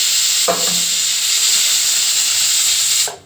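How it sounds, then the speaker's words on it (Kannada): A pressure cooker whistling while village-style field bean (avarebele) sambar cooks, giving a loud, steady hiss of escaping steam for about three seconds before it cuts off. "ಒಂದು ವಿಷಲ್ ಬರುತ್ತೆ ಫ್ರೆಂಡ್ಸ್"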